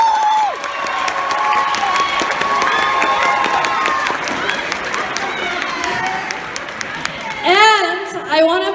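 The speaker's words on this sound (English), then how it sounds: "Can you please give them another round of applause, because they're the ones that deserves the credit" A live show audience applauds and cheers in a steady roar of clapping and shouts, with a host's voice heard over the crowd and some higher-pitched calls near the end.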